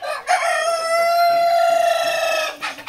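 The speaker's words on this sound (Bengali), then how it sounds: "তো এখন দেখতেছেন ফার্মি মিশরি রানিং" A Fayoumi rooster, an Egyptian chicken, gives one loud close crow held for about two seconds, framed by brief clucks from the flock before and after.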